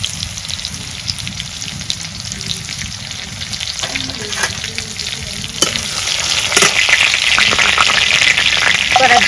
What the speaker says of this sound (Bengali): আজকে আমি পেঁয়াজ দিম না, আজকে রসুন দিয়ে বাগা দেবো।